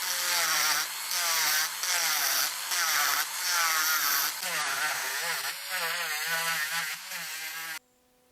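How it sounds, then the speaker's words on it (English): A Dremel rotary tool shapes a balsa wood fishing lure, whining in a series of short bursts with brief pauses between passes, close and fairly loud, then cutting off. "Let's see if the Dremel tool will work."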